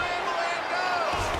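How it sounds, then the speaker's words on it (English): A crowd roars in a UFC video game fight simulation between Alexa Grasso and Valentina Shevchenko, a dense, bright wash of cheering that swells slightly toward the end. "you heard the crowd pop after that grueling ground battle"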